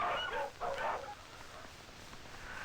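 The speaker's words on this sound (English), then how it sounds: "Our sled dogs are the only domestic animals we have." Eskimo sled dogs in northwestern Alaska barking in a couple of short bursts, moderately near, then quieter background noise.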